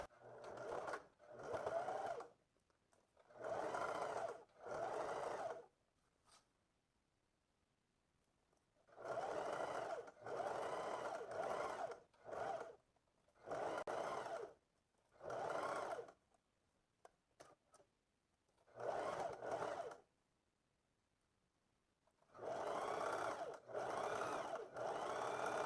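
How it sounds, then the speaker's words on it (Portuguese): Sewing machine running a straight seam along the folded edge of elastic-waist shorts, in a series of short, close bursts separated by silent pauses. "Vamos fazer uma costura reta bem na beiradinha dessa dobra."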